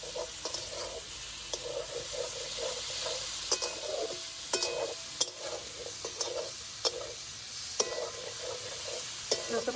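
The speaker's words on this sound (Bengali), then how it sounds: "আলু আর এঁচোড়টা কিন্তু আমি ভালো করে ভেজে নেব।" Potatoes and raw jackfruit stir-fried in a pan for a prawn curry, with steady oily sizzling and repeated scraping clicks of a spatula stirring throughout, close and moderately loud.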